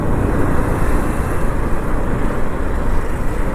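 Road traffic rumbles through a tunnel on a ghat road, a loud, continuous roar of engines and tyres echoing off the walls without pause.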